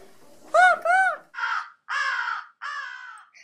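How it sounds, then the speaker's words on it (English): An American crow caws five times, two close harsh calls followed by three longer, rougher ones, each separated by brief silence. "My bird is American crow. That's what it sounds like."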